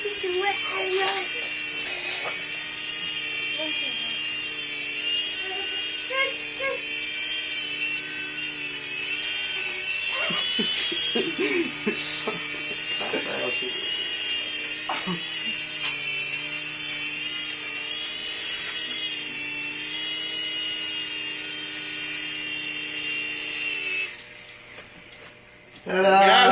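A toy mini remote-control helicopter flies and lands on a person's head, its high whirring rotor and motor buzz running steadily close by with brief rattles and light background voices, then cutting out near the end.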